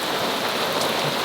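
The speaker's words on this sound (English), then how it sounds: "Wow, it's really raining." Heavy rain pours onto a 40ft sailing boat, a dense, even hiss of drops drumming on the deck and surfaces, close and continuous throughout without any voices.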